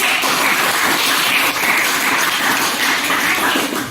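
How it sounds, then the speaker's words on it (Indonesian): Classroom of students clapping together after a teacher's prompt during a lesson, a dense, steady wash of hand claps filling the whole stretch at close range. "Tepuk tangan dulu untuk 9."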